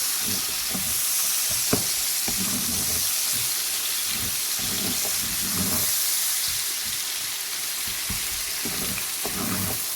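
A mung and masoor dal soup with mango powder is stirred in a pan, with soft scraping strokes at a loose rhythm over a steady simmering hiss, close and moderately quiet, with no voices.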